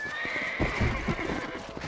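Horse in the Red Dead Redemption video game giving a loud, close whinny that rises and falls over about a second, with hoof clip-clops and outdoor background beneath it.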